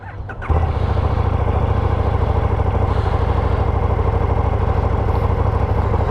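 A KTM Super Duke 1290 GT sport-touring motorcycle engine cranks and catches, then settles into a steady, loud, close idle with a low, even rumble on a cool day.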